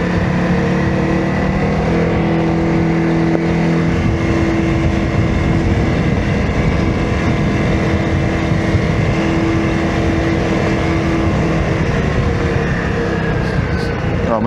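An off-road vehicle engine drones steadily in third gear on a dirt trail near Purgatory, Colorado, a loud continuous hum with slight rises and dips and faint rattling over the whole stretch.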